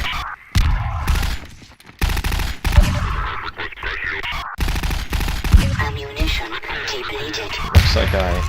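Gunfire in a shooter video game: dense bursts of rapid shots and heavy blasts, loud and continuous with brief gaps, layered with game sounds, while a person talks over it.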